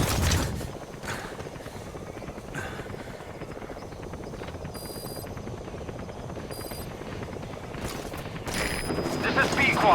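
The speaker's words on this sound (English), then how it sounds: "Please select a support helicopter" A support helicopter arriving in Metal Gear Solid V: The Phantom Pain, its steady rotor chop throbbing throughout and growing louder toward the end, with radio-style game voices and menu beeps over it.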